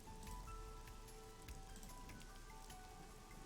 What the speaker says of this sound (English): The parasol is getting pelted by the rain.